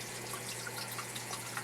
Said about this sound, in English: as soon as I finish this water change